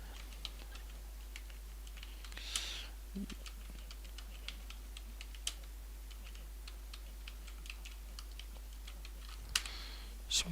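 Typing on a computer keyboard, with soft scattered key clicks at an irregular pace, close and faint over a quiet room hum, without any voices.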